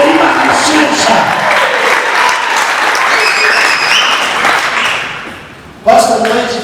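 A church congregation applauding loudly and steadily for several seconds; the clapping fades before a voice cuts in near the end.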